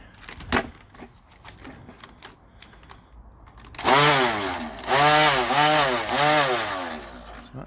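A Gardenline cordless battery strimmer starts up partway through and runs loud and close with a buzzing motor whine that rises and dips several times. Before it starts there are faint clicks and handling knocks.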